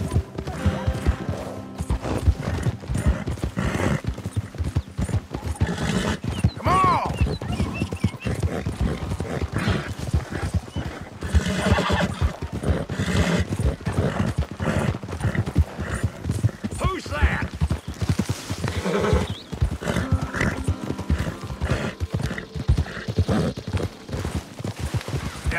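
Horse hooves clip-clop in a steady rhythm with occasional whinnies in the video game Red Dead Redemption 2, while people talk over the sounds throughout.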